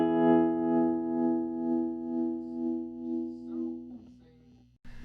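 Electric guitar chord ringing through a tremolo pedal, its volume pulsing in an even choppy rhythm as the note sustains and fades, ending with a short click.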